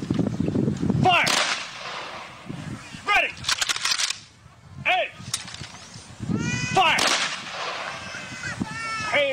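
Rifle volleys ring out at a US Marine funeral as a gun salute. Several sharp, loud cracks are spaced seconds apart, with shouted commands between the shots.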